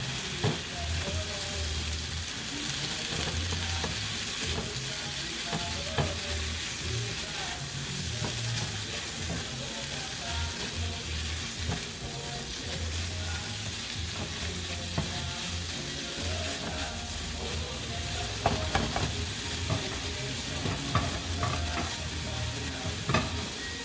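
Garlic, about a teaspoon, sizzles steadily in a hot frying pan, a dense continuous crackle with occasional louder pops and a few stirring scrapes, close and fairly loud with no talking.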